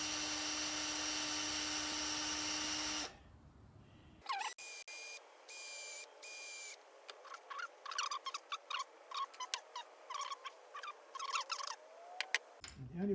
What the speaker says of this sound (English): I'm going to drill out this little bit to see if I can release that little motor